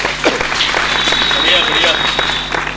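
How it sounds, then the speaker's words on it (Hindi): Audience clapping at a Hindi stand-up comedy show, a dense, steady patter of many hands that fills the room beneath a voice speaking over it. "थोड़ा सा ताली वाली बजाइए।"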